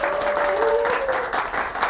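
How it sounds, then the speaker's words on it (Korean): Short burst of audience clapping at an indoor seminar for insurance agents, loud and continuous for about two seconds with a faint voice underneath. "한번 우리 박수 한번 좀 부탁드릴까요?"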